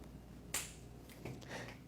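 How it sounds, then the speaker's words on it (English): A single sharp finger snap rings out once, close and crisp, followed by faint room noise and a softer click or rustle a moment later. "Snap your fingers when you're at the peak of how this makes you feel."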